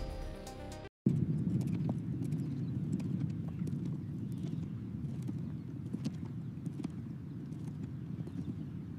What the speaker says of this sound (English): an aesthetic scene of a man fully dressed up riding a horse and playing polo